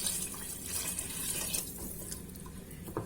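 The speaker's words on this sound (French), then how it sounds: "Maintenant, je vais venir rajouter de l'eau." A litre of water pours steadily into a pot of Moroccan harira soup, a close, continuous gushing splash that lasts the whole moment without a break.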